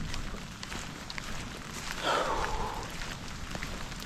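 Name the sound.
heavy rain falling at flooded camp trail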